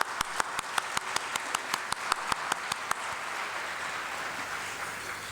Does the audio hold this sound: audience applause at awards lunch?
yes